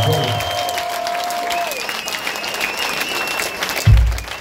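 Audience applause in tribute to a performer and his band, a continuous crowd clapping with tonal sounds over it, ending in a low thump.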